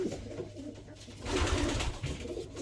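Pigeons cooing close by in a loft, soft repeated low throaty coos rising and falling over a few seconds with faint background rustle and no talking.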